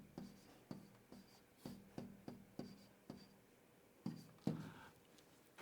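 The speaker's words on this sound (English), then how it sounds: "let me write down the formula." A formula is written out by hand during a physics lesson on standing waves and the speed of sound, a series of faint rhythmic taps and scratches from the pen or marker, no talking.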